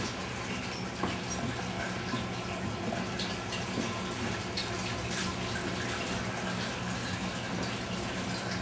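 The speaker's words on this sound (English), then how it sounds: "Note there's an aquarium in the background." Aquarium water runs steadily in the background of a quiet house interior, a continuous soft broadband rush with faint trickling detail, even and unbroken throughout with no voices.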